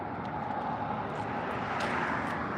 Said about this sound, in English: Look at that plane. So many planes.